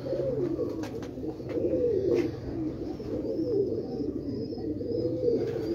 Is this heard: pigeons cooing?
yes